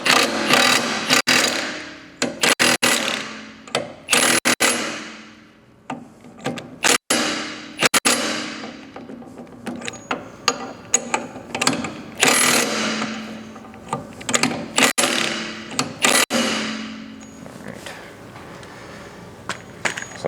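Irregular metallic clanks, ratcheting and tapping of hand tools tightening a castle nut on a boat outdrive's propeller shaft up close, with uneven bursts and short pauses.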